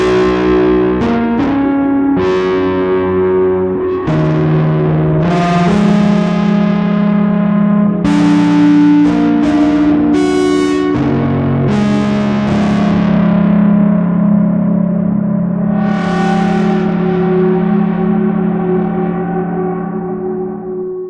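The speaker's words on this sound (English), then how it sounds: "Now through Audrey, where I ride the feedback a bit." A Hohner Pianette T electric piano played through an Audrey II feedback synth, sustained distorted chords and single notes swelling into squealing, wavering feedback tones that ride over the keys, loud and continuous throughout.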